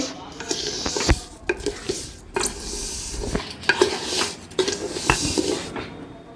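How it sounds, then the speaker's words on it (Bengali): Chicken is stir-fried in a full wok, with a spatula repeatedly scraping and knocking against the metal over a steady, close sizzle in an irregular rhythm. "এখানে দেখো চিকেনটা হচ্ছে চিকেনটা কষা হচ্ছে"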